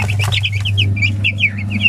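Young chicks cheep in quick, high-pitched repeated chirps over a steady low hum, fairly close and continuous.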